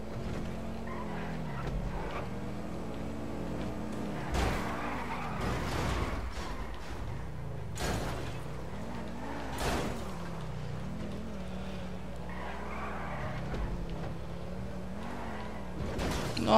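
Driverless car rolling along on its own in GTA 5, a steady engine drone that rises and falls in pitch, broken by several sharp bangs and thuds, fairly loud and continuous with no talking.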